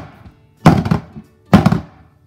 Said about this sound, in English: we're gonna bang it a few times to get rid of some of the air bubbles